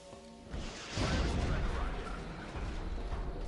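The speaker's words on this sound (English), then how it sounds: "we want to use our first shredder rocket on this sectopod. Firing rocket." A shredder rocket launches at a sectopod in the strategy game XCOM: Enemy Within, a rising whoosh swelling into a heavy, rumbling blast that lingers as a low roar.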